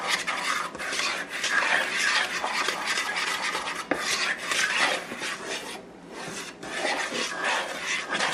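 Continuous scraping and rubbing of garlic and dry pizza dough ingredients being mixed in a bowl, a busy close rasp with short pauses and no voices.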